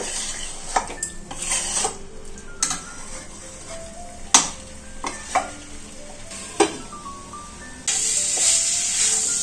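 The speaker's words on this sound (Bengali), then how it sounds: "এই চিকেনটা আমি এখন কষাতে থাকবো।" Chicken being sautéed and stirred in a pan for a chicken roll: a steady sizzle runs throughout, broken by repeated sharp scrapes and clinks of a utensil against the pan. The frying hiss grows louder near the end, with no talking.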